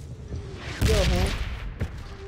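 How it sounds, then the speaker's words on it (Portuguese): Bombardment and gunfire in the PUBG Lite video game, a loud burst of explosive blasts followed by a single sharper shot, heard alongside a person's excited voice. "Ah, bombardeio também!"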